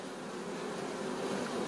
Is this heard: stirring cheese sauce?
no